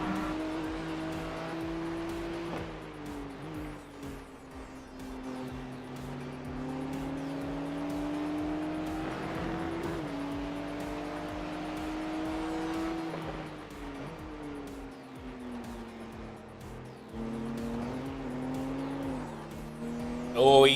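Race cars at Watkins Glen produce a steady engine drone whose pitch rises and falls as they brake and accelerate through the corners. It stays at a moderate distance, with a sharper burst at the end.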